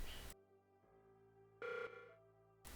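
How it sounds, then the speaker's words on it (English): Priority sensor notification alert in the video game Creeper World 4, a ringing electronic chime with tonal beeps that sounds briefly, then pauses and rises again over quiet background hum. "Got a priority sensor notification."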